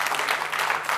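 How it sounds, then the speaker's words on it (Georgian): Dense, steady audience applause fills a studio game show for a full second, loud and continuous with no talking over it. "აპლოდისმენტები."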